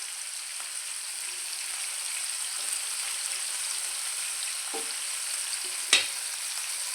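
Prawns for a prawn roast fry over a high flame in a pan, giving a steady, fairly quiet hiss with a couple of brief clatters near the end.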